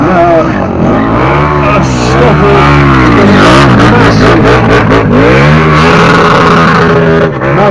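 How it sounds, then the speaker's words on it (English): A KTM 1290R motorcycle revs hard in an arena while doing a donut with tyre smoke, the engine very loud and close, its pitch repeatedly swooping up and down as the rear wheel spins. "A big donut at the end, the tyre smoke drifting across the arena."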